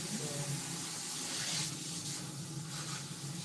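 A water tap runs steadily into a sink, a constant broadband rush that holds for a few seconds at close range with no pauses.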